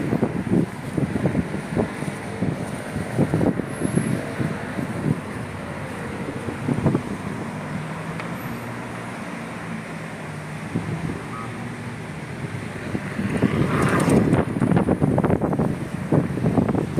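Strong wind buffets the microphone in loud gusts, with rushing air and muffled rumble, strongest at the start and near the end.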